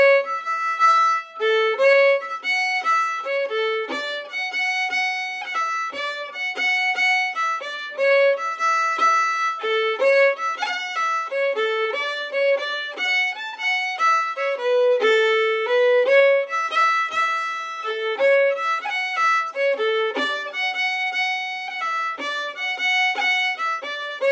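The Irish jig Judy Callahan's, part B, played on tin whistle with fiddle and piano: a bright, lively, ornamented melody runs continuously in a bouncing triple rhythm, with no speech.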